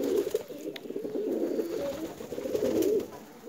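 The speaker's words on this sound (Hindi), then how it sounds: "ये हमारी फैंसी कबूतर है" Fancy pigeons coo in low, throaty, continuous warbles close by, with a soft swell of several overlapping calls near the end.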